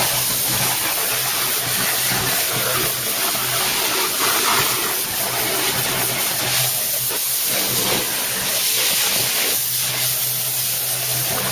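A steam cleaner sprays a car's engine bay with a loud, continuous, close hissing rush, holding a steady level with slight surges throughout.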